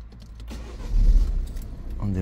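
Citroën C4 engine cranking and catching after the ignition is switched on, a brief low rumble swelling in the middle, with a voice speaking over it and a faint jangle of keys.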